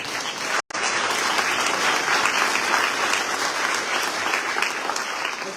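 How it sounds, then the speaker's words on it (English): Sustained applause from an audience at an awards event honoring young professionals in Jackson, dense steady clapping filling the room with a brief dropout near the start. "Would you please give him a hand?"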